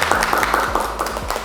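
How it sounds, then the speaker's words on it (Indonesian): Classroom applause for a presenting student group during a teaching practice session, a short burst of scattered clapping with a hum and a voice beneath it. "Tepuk tangan untuk kelompok 2."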